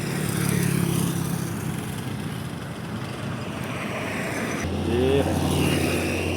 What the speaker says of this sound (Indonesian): terpantau ramai kendaraan yang melewati tanjakan Sungai Karas